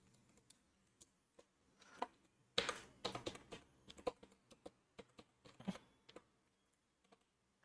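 Code being typed on a computer keyboard during a React JS tutorial, heard as irregular close clicky keystrokes with a dense burst in the middle, quiet and alone.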